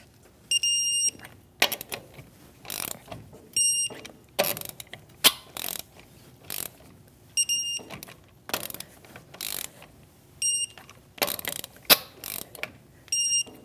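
Wheel nuts on a 2016-2025 Chevrolet Malibu are tightened with a torque wrench to 100 foot-pounds in a star pattern, with repeated bursts of rapid ratchet clicking and several high beeps from the wrench, alone and close.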